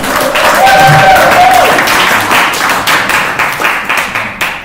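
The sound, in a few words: audience applause for speaker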